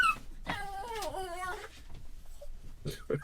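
A dog whimpers close by in a wavering, high-pitched whine lasting about a second, followed by faint shorter whimpers and small sounds.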